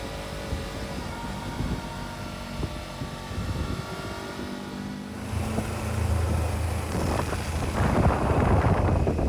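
A Kawasaki 250cc motorcycle, loaded with two riders and three packed cases, strains up a road with a steady engine drone that swells louder and rougher partway through, mixed with wind buffeting the microphone.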